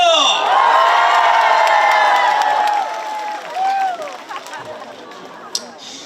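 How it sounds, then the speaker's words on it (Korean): A concert audience cheers and shouts loudly for a young trot singer, with high whoops and screams that gradually fade into scattered applause and voices. "함성 박수 주세요"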